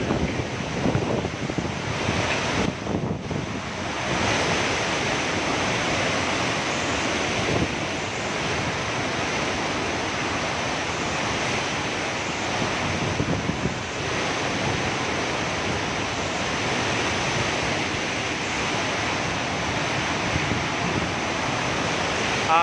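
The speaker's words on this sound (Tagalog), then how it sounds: "Yung bugso ng hangin po yung pinakamalakas na na-experience ko mula kanina." Strong super typhoon wind roars continuously for a long stretch in the Philippines, buffeting the microphone in heavy gusts, with a faint voice now and then beneath it.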